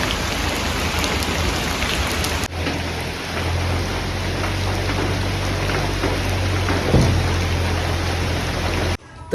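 Steady rain pours down on a village home with a little wind picking up, a dense, loud hiss of drops hitting surfaces close by, continuous throughout with a low rumble underneath.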